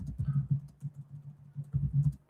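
Light typing on a computer keyboard, a quick irregular run of soft close keystrokes with brief pauses, no voices.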